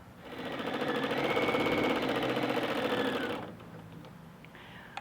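Brother sewing machine quilting taut fabric on a Dream Frame, a close rapid mechanical whirring stitch that runs steadily for about three seconds, then stops abruptly, leaving faint clicks.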